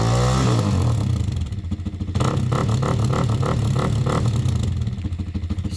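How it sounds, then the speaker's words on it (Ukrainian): A Geon Scrambler 300 motorcycle with a new exhaust revs loudly and close by, with a deep throaty exhaust rumble and rapid pulsing bursts of throttle. "тепер хоч чутно звук двигуна"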